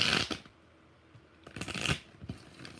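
Tarot cards being shuffled by hand, several quick riffling bursts separated by short pauses, close and fairly quiet.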